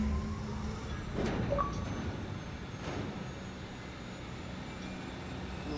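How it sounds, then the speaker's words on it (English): A spaceship engine in the video game The Outer Worlds runs with a steady low droning hum, with a few faint whooshing swells and no speech over it. "Listen to that engine purr."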